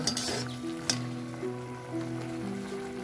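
Dragon fruit coconut laddu mixture cooking in a pan, sizzling and bubbling steadily close up with a brief sharp clack partway through, no talking over it.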